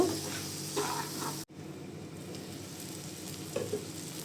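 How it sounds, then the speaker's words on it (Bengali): Goat or beef brain bhuna cooks in oil, giving a steady close-up sizzle with soft scraping of the stirring spoon; the sizzle drops out abruptly for a moment, then continues with occasional louder stirring strokes. "এটা এখন আমি অনবরত নেড়ে চেড়ে নিব।"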